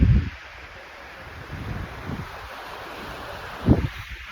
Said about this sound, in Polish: Cisza, spokój, szum fal